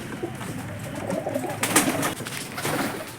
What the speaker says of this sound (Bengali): এই বড় পায়রাটা এখানে ডিম নিয়ে বসে আছে